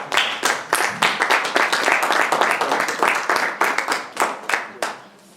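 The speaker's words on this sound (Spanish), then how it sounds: "pido un gran aplauso primero para Claudio" Applause from an audience at a labor reform forum, a steady run of close, distinct hand claps from a modest group that thins out toward the end, with no talking.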